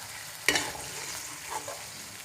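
Browned onions are scooped out of a pan with a sharp scrape, then a soft ongoing sizzle continues with a faint second stir. The sound is close and fairly quiet.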